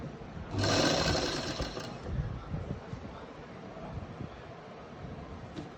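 A sewing machine stitching a buckram-stiffened neckline runs in one loud, fast burst of about a second, then stops, leaving a quiet room hum.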